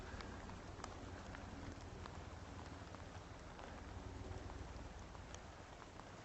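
Steady rain falls outdoors near a beach and headland with poor visibility, a dense, even hiss of drops filling the whole stretch at constant loudness with no clear talk over it.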